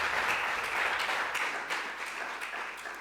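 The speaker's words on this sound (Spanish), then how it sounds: "Un aplauso para Andrés García." Steady applause from an audience, a dense wash of many hands clapping that holds for a few seconds and eases slightly toward the end.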